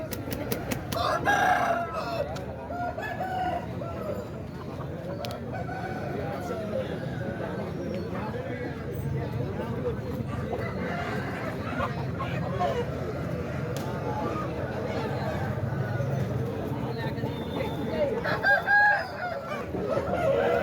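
A rooster crows and hens cluck nearby amid a busy crowd at a Saturday country-chicken market, with people talking throughout.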